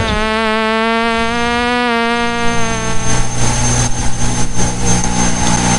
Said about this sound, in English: And so do perpetually persistent buzzing flies.